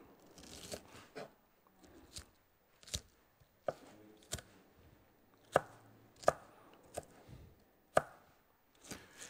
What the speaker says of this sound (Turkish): soğanımızı doğruyoruz